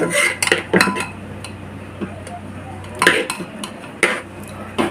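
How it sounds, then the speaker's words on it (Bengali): Boiled biulir dal (urad dal) mashed inside a pressure cooker gives intermittent metal clinks and scrapes of a utensil against the pot, close and sharp, in irregular bursts with a quieter hum between. "এখন কুকারের মধ্যে ডালটাকে এইভাবে একটু ম্যাস্ট করে নেব"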